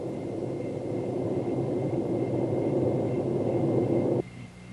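A Hughes OH-6 helicopter's engine and rotor make a loud, continuous, broad roar with a steady whine above it. The roar cuts off abruptly near the end and a quieter rumble remains.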